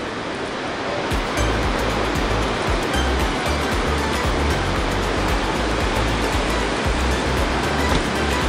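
Heavy rain pouring down in a dense, continuous roar of water, steady and loud from start to finish.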